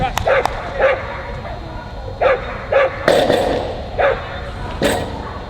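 A border collie barks and yips repeatedly in short, loud bursts during a dog agility run at an outdoor competition, with a faint announcer voice and crowd noise underneath.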